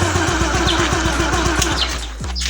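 A motorcycle engine runs close and loud, its rapid even firing pulses steady for about two seconds before the revs drop away near the end.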